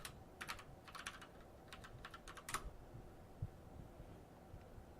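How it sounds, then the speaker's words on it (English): Computer keyboard typing, quick bursts of light key clicks in uneven clusters over the first few seconds, then a quiet room with faint hum. "I'm just going to type in something here"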